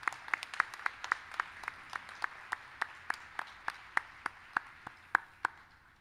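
Clapping at a Cleveland State University commencement ceremony, heard as a sparse, evenly spaced series of sharp individual claps, about four per second, fairly faint and steady from start to end with no voices.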